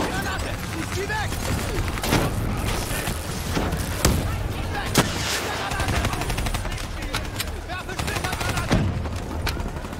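Dense gunfire from Call of Duty Black Ops 3, rapid automatic bursts and occasional heavier booms in a continuous loud barrage, with voices shouting over the shooting.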